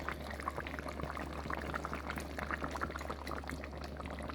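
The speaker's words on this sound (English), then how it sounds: "Adding a little pepper sauce to my pot." Hot pepper sauce is added to a pot of simmering beef stew, a steady bubbling and pouring wash that runs unbroken and close throughout, with no talking.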